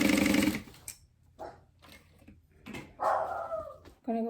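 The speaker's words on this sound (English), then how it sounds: "I'm just trying to sew on a straight line" A sewing machine stitches a lunch box along a straight line, a short loud whirring burst up close followed by softer intermittent mechanical sounds and a few brief bursts.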